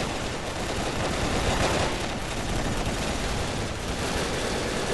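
Gunfire in the blocky online shooter BrickForce: a dense, continuous burst of rapid shots, fairly quiet and unbroken, with no talking.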